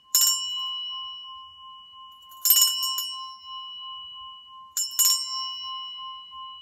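Three separate strikes of a meditation bell, each a bright metallic ding that rings on in a long, steady sustained tone, spaced a couple of seconds apart in an otherwise quiet room.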